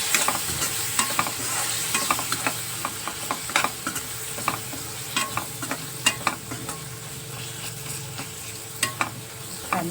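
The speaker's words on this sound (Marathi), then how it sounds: "घरगुती मसाला मालवणी, चांगली परतवून घेतली." Homemade Malvani masala sautéing in a pan with onion and tomato, with a steady close sizzle and repeated sharp scraping strokes of a spoon stirring through it, no talking.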